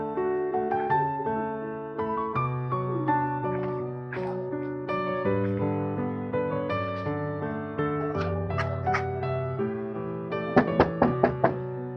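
A run of sharp, quick knocks on the front door of a family home rises near the end, sitting over steady background music.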